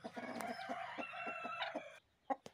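A native country hen, broody and settling on a clutch of eggs, clucks in a quick, steady run of soft, fairly faint calls, then falls quiet before two last short clucks.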